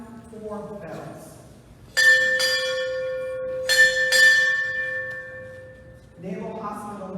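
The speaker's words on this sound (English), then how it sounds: "Sound 4 bells." A ship's bell strikes four times in two close pairs at a naval hospital change of command ceremony, its tone sustaining between strokes, with a voice speaking briefly before and after.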